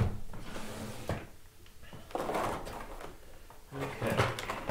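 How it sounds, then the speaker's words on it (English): A drawer in a sewing or quilting room slides open and shut as a circular sewing attachment is taken out, with soft wooden rattles and scrapes in a few close bursts amid quiet room tone. "Let me pull mine out of the drawer back here just a moment."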